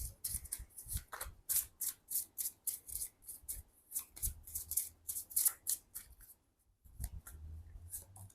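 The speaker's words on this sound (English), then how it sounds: "Let me pull one more card for you guys from the Romance Angels Oracle cards." Cards from a Romance Angels oracle deck shuffled and rubbed by hand, a close, steady run of crisp papery swishes and flicks that pauses briefly near the end before resuming.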